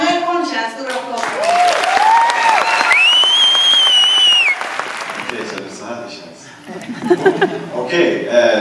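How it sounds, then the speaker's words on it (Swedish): Applause for a speaker at a gala film premiere at the Rigoletto cinema in Malmö, a dense sustained clatter mixed with whoops and crowd noise, with a loud voice and a tonal whistle rising briefly over it before the clapping thins. "Manuel Concha, en stor applåd."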